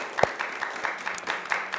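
Scattered applause from a studio audience for both high school quiz teams after a televised varsity quiz match, light and uneven claps with a few sharper near hits.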